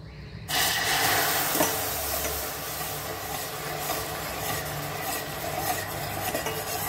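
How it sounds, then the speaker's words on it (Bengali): Milk going into caramelised sugar in a pan for misti doi, a sudden sizzling hiss that settles into a steady bubbling rasp with a spoon stirring, close and continuous with no talking. "এবার আস্তে করে দিয়ে দেবো দুধ"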